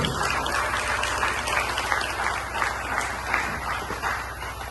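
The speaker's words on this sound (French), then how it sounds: "On applaudit juste ça" Audience applause at an event honoring teachers, a steady, fairly distant patter of many hands that holds evenly for several seconds.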